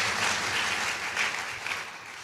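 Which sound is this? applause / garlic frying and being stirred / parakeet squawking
applause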